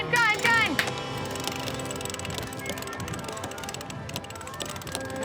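A sailboat winch being ground, with a steady ratcheting clatter of the pawls running on under ambient noise and brief voices at the start.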